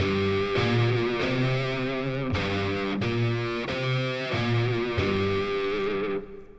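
A Shawzin from the game Warframe plays in the Corbu scale, ringing out a steady sequence of plucked, sustained notes with a distorted, effected tone, about nine notes evenly spaced before fading, with no talk.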